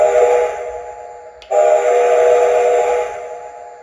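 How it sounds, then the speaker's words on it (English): A steady, slightly tinny steam whistle from a Lionel model train blows continuously with a brief break midway, then fades a little toward the end. "Hit the whistle."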